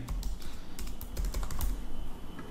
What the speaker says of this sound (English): when we start typing out a query, we'll get type hints immediately